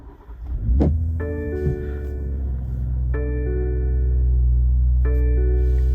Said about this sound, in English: Starting the BMW M240i, just put your foot on the brake, press the button